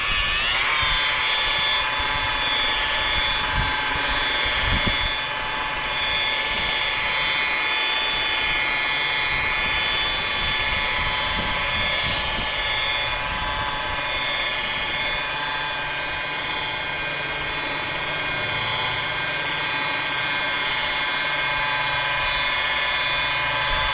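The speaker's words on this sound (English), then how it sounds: "I like to run the buffer at a lower RPM, around 1000 or so on fresh paint" A rotary buffer polishes fresh car paint at a low speed of about 1000 RPM, giving a steady, continuous motor whine with sustained tonal hum and no talk over it.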